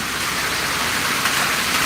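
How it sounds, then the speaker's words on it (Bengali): Heavy rain pours down steadily in Bengaluru, a dense, even hiss with no letup and no voices. "দেখার সুযোগ করে দেই যে বেঙ্গালুরে কীরকম বৃষ্টি হয়"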